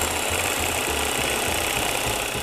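An electric mixer whips plum cake batter with eggs to make it fluffy, giving a steady, loud motor whir that runs continuously without a break and with no voices.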